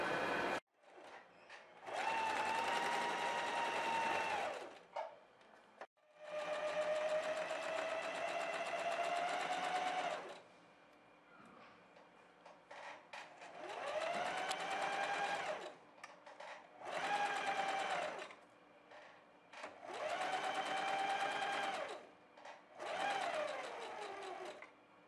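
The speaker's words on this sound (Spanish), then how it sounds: "Vamos a pasar costura hasta llegar al otro extremo." A sewing machine stitches a seam on a baby bodysuit in several bursts of steady whirring, each a few seconds long, separated by short pauses, close and clear with no talk.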